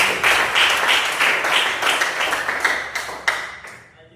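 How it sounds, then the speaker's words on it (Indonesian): A classroom of students claps for group 3 after their presentation, a close, steady burst of applause that thins out and fades toward the end. "kasih tepuk tangan untuk kelompok 3"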